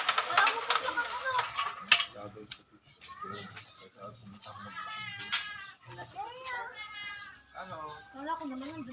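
A cat meows repeatedly in rising and falling wails, mixed with sharp clacking taps and people talking nearby during a billiards match.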